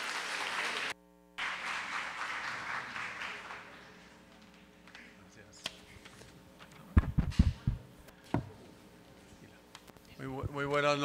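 An audience claps at the closing of an international neurology and neurosurgery congress at Universidad Cooperativa de Colombia in Cali. Brisk applause fills the first few seconds, then fades into scattered knocks and clatter before a voice begins speaking.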